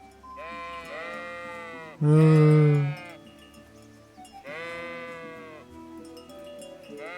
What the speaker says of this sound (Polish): I powkurzajmy owce.